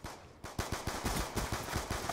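Rapid bursts of video game gunfire, a steady stream of sharp automatic shots firing close and loud with no voices.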